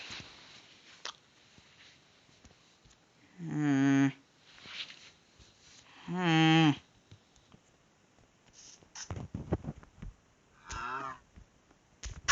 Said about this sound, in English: Yes, moo. I don't care. Silence, cow beast.